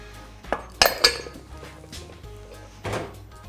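Egg and custard mixture in a bowl, starting with a few sharp metallic clinks of utensil against the bowl close up, then softer knocks and a final clatter, with no voices.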